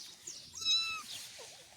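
A mother cat meows once near her small kitten, a short, fairly faint call in a quiet room with no talk.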